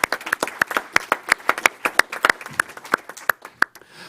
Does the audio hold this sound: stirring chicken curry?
no